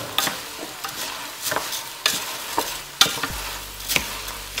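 Wild rice cooks in a pot while a spoon stirs it: repeated scraping strokes every second or so over a soft, steady sizzle, close and fairly loud.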